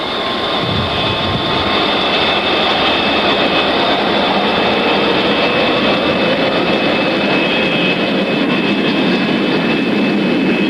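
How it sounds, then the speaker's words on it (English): A supersonic SST jet airliner takes off in a film, its engines a loud, steady, continuous roar with a sustained high whine running the whole time, no voices over it. "Maiden One cleared for takeoff"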